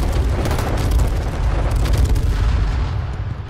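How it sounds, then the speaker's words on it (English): Heavy airstrike explosions boom in a multiplayer shooter video game, a dense, loud rumbling barrage of blasts rolling continuously with deep low-end weight. "Airstrike."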